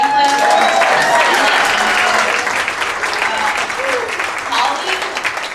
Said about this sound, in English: Can we give another round of applause for Franklin?